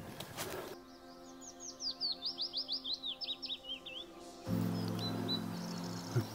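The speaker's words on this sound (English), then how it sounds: "been joined by a coal tit, which is singing just behind us here" Coal tit singing close by in woodland at dawn, a rapid series of about a dozen bright, evenly spaced notes over a low steady hum, followed by fainter calls in the background.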